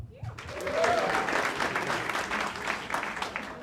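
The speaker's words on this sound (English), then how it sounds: "Round of applause, I'm just getting you involved." A comedy show crowd breaks into applause, a dense wash of clapping that swells quickly and holds steady, with a few voices under it.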